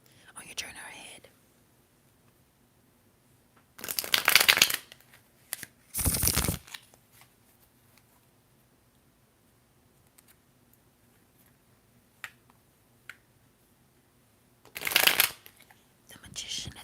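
A tarot card deck is shuffled in three quick, crisp bursts separated by quiet pauses, close and intimate, with soft whispering in between.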